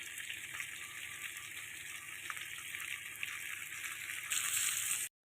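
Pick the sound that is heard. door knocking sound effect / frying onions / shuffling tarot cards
frying onions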